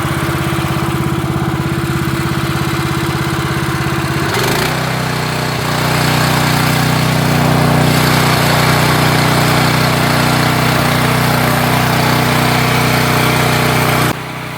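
The engine of a Range Road Eco Pro 300 wood processor idles loudly and steadily up close, then its pitch rises partway through as the idle is turned up, running on evenly until it cuts slightly near the end.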